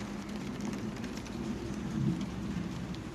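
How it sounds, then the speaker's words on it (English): Light rain falling steadily on a freshly waxed car, a soft continuous patter with low rumbly texture, fairly quiet throughout. "And this is light rain"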